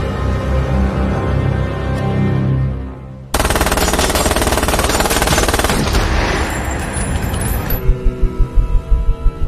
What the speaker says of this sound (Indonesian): Bullet pun langsung memberondong Edge dengan senjata UMP